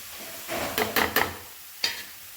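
Spice powders fry in a pan for a spicy chicken roast as a spoon stirs them, making a few scraping strokes over a soft sizzle, close and fairly loud.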